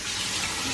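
Kitchen faucet water pours in a steady close hiss as a pan is rinsed, a brief continuous splash with no voices.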